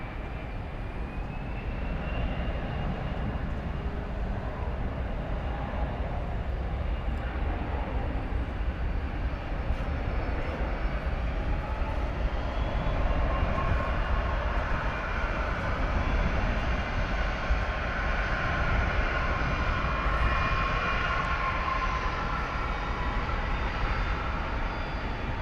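Airliners taxi and pass at Dallas Fort Worth airport at night, a steady, distant jet-engine roar and rumble that swells gently and never fully fades over the whole stretch.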